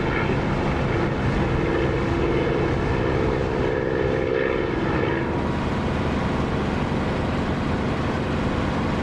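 A propeller aircraft engine drones in the DCS flight simulator, run at about boost 8 throttle with the prop pitch set near 2,700 RPM, a steady, loud, unbroken hum that holds for the whole stretch.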